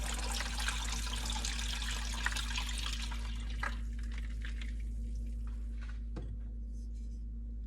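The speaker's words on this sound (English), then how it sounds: "Grab a second pitcher of cold water and pour on top of the hot tea in the prepared" Cold water pours steadily from a second pitcher onto hot tea in another pitcher, filling it to the brim; a continuous close splashing that thins to trickles and drips near the end.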